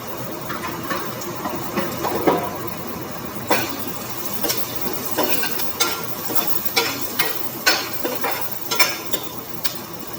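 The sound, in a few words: onions and green chillies sizzling in hot oil in a kadai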